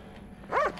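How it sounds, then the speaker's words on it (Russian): A single short dog bark in the video game Nosferatu, faint and brief against a low background hum. "Пес!"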